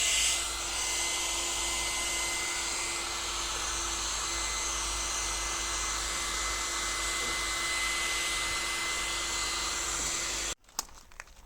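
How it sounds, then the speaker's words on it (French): A hair dryer heats window tint film on a BMW 3 Series F30, blowing steadily with a loud, even whirring hiss for about ten seconds, then cutting off abruptly. "je viens chauffer avec le sèche-cheveux pour que ça vienne bien tenir le truc"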